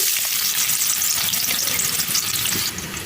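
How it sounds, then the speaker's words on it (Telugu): Onion pieces fry in a pan with oil for a duck curry, giving a loud, dense, steady sizzle that crackles without pause, close up and with no talking. "తర్వాత దీంట్లో ఉల్లిపాయ ముక్కలు వేస్తున్నాను"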